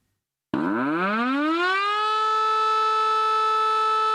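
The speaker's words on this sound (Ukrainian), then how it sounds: "Сигнали повітряної тривоги у Полтаві виходять з ладу." An old air raid warning siren in Poltava, roughly 40 years old, starts abruptly after silence, its wail sliding upward within about a second and a half and then holding a loud, steady, sustained tone.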